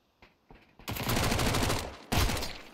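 Rapid gunfire from a first-person shooter game, a few sparse early shots building into a dense, loud sustained burst, a brief pause, then another heavy volley.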